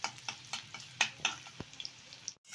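Chopped garlic fries in oil while a spoon stirs it, soft sizzling under a run of sharp scraping and tapping strokes against the pan, close and uneven in rhythm, cutting out abruptly at the end.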